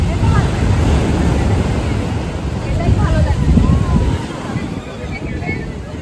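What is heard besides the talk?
rough sea waves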